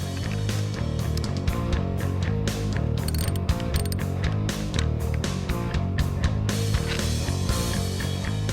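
Washer nut being tightened onto a radio bracket in a 1965-1966 Mustang, giving dense, steady mechanical ratcheting and metallic clicking that runs continuously at close range with no talk.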